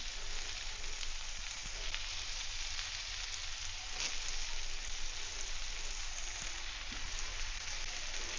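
Curry leaves sizzling in hot oil in a pan: a steady, even crackle and hiss that carries on throughout with no talking.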